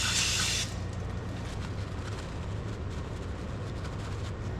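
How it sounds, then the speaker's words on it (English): Brake cleaner sprays in a loud aerosol hiss onto a brake caliper surface of a 2014 Lexus GS 350 with Brembo brakes, a burst under a second long followed by quieter dripping, rattling background noise. "So I'm going to go ahead and clean off this surface here using the same brake cleaner"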